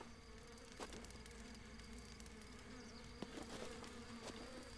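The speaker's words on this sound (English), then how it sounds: "The bees are not very happy." Angry bee swarm in the Breath of the Wild video game, a faint continuous buzzing drone with a few short clicks and taps over it.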